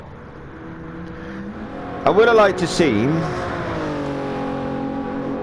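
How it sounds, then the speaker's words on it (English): Race car engine in a sim racing league video game, droning steadily on track then briefly revving up and settling into a sustained whine, with a commentator talking over it throughout. "Fast car on track still."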